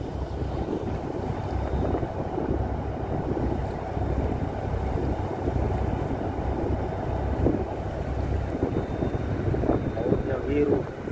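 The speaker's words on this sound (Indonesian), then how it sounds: "Laju sekali kapal ini." A ship crossing the Java Sea from Java toward Kalimantan at speed, a loud steady engine drone and water rush mixed with wind buffeting the microphone, continuous throughout.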